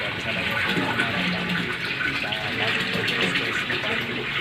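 Water gushes steadily from a household tap, a continuous close rushing that runs under a man's speech.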